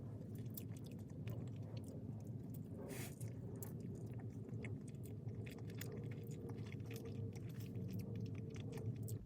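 Chewing on a chicken burrito with sour cream, soft wet mouth sounds and bites repeating close up and quiet against a faint background hum.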